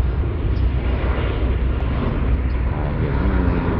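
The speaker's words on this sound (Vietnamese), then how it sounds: "chiếc máy bay" A low-flying airplane passes over a Saigon neighbourhood near Tan Son Nhat airport with a loud, continuous jet roar that stays close throughout.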